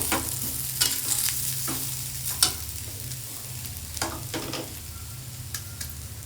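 A spoon stirs amchur powder into a potato and bhindi masala curry in a pan on a switched-off stove. A faint residual sizzle sits under scattered scraping and light clinks, quiet and close.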